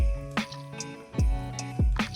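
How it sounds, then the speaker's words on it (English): Almond milk cocktail mixture is poured into a cocktail shaker, heard as a few separate close glugs and splashes with brief drips between them, fairly quiet and with no talking. "Measure out 1 cup of the mixture, then pour it into a cocktail shaker."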